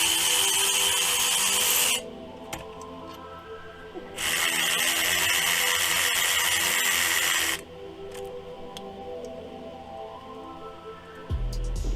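A power tool removes 3 1/2-inch bolts on a 2001 Buick Regal, running in two loud sustained bursts of a few seconds each, separated by quieter mechanical idling.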